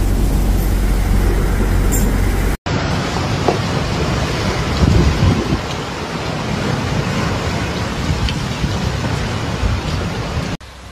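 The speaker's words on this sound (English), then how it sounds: "A strong thunderstorm, at times with tropical storm characteristics," Strong thunderstorm with wind and heavy rain striking towns in Lombardy, Italy, in July, a loud steady roar of rain and gusts that runs throughout after a brief cut near the start.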